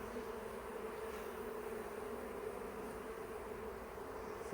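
A bumblebee buzzes close by near a beehive during a hive inspection, a steady droning hum that holds for several seconds with no one speaking.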